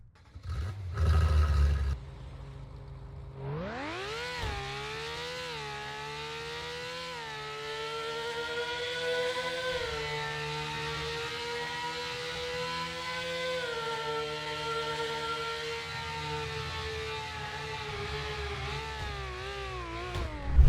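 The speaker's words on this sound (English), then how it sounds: "There are some nice sounding cars like this Porsche" A Porsche sports car engine in a Roblox driving game revs up sharply after a brief thump, then holds a steady, loud, harmonic drone with slight rises and dips in pitch for the rest of the stretch, with no talking.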